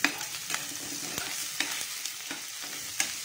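Garlic and onion sautéing in a pan for ginisang pechay: a steady close sizzle with intermittent scrapes and taps of a utensil stirring.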